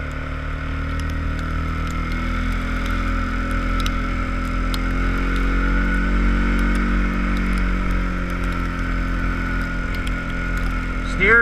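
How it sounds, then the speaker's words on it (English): A Kawasaki KVF 360 ATV runs through about 30 cm of fresh snow in high gear, giving a steady, close engine drone with a low hum that holds throughout. A brief rattle comes near the end. "So, put her in high and we'll go for a little spin."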